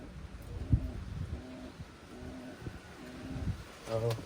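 Soft, low coos of Taiwan pigeons repeat in a slow rhythm, close and quiet, with faint rustling between calls.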